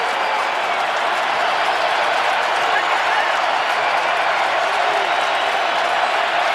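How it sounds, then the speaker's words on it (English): A stadium crowd roars at an NFL football game between the New England Patriots and Tennessee Titans in Nashville, a dense, loud, sustained wall of cheering and noise that never lets up. "Crowd is loud in Nashville."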